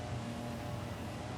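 Racing truck engine in Forza Horizon 5, a steady low drone held at an even level throughout, no voices over it.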